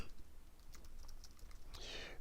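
Faint, close computer keyboard typing with scattered soft key clicks over a steady low background hiss, ending in a brief breathy sound.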